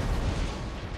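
Cannon artillery fires in the Total War: Empire video game, heard as a heavy, continuous booming rumble through the whole second, loud and with no talk over it.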